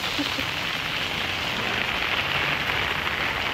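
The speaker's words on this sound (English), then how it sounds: "And it's raining so much." Heavy rain pours outdoors in Antalya, Turkey, a dense, steady hiss of water on surfaces that fills the whole short stretch without a break.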